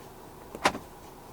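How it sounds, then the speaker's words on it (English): 2024 Ford Ranger 2.0 4X4 Raptor double cab power side mirrors folding in, a short faint electric motor whir with a soft clunk lasting well under a second, heard from inside the cab. "To fold the side mirrors in from the inside, press this button right here"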